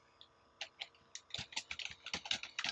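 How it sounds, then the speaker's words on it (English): Someone types a password on a computer keyboard, a quick irregular run of light clicking keystrokes starting sparse and then speeding into a dense, close patter for a few seconds. "okay, I am just typing."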